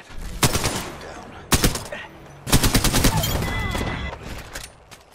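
Gunfire in the battle-royale game Apex Legends: sharp automatic bursts crack out in three separate clusters, the last a longer rattling fusillade, loud and close, with faint in-game chatter under the shots.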